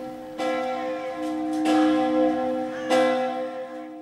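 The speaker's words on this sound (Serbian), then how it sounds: "Zvono je tad 70-ih godina bilo jedno od tri najveće u upotrebi u svetu." A very large church bell rings out three heavy strikes, each followed by a long, humming resonance that lingers between blows. No other sound competes with it.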